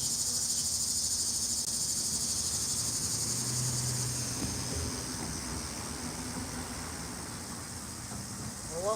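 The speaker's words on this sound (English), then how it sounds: "It's the sound of the cicadas that are making you think that." Cicadas and crickets buzz steadily through a night scene, a dense high-pitched drone that holds constant throughout while faint voices murmur underneath.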